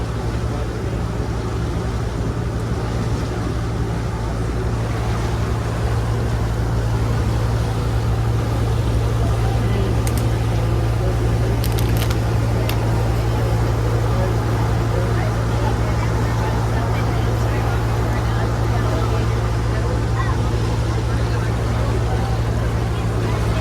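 A Disney resort ferry boat cruises between the Magic Kingdom, Grand Floridian and Polynesian, its engine giving a constant low hum over broadband water wash, unbroken and even throughout.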